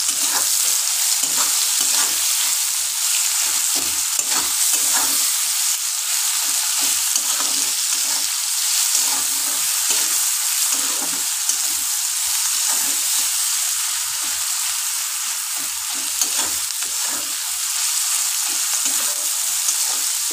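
Tomatoes cooked with a little salt fry and soften in a pan for okra with sesame, giving a steady, close sizzle with occasional stirring scrapes, continuous and fairly loud with no talking.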